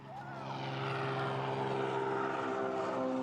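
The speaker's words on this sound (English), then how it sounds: "On a float plane." Float plane flying toward Chenega from Anchorage, its propeller engine droning steadily and loudly throughout, building slightly at the start then holding a constant hum with no talking.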